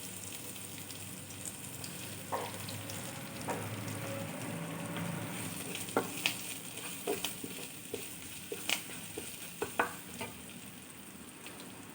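Ginger and curry leaves sizzle in hot oil with popped mustard seeds, a steady frying hiss with sharp crackles and pops that grow toward the end, with no talking.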